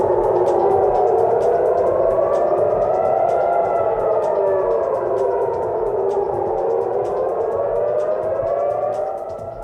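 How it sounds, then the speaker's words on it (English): Air raid sirens wail across Tel Aviv, several overlapping tones rising and falling slowly in loud, continuous sweeps with no talk. "Sirens blare across Tel Aviv."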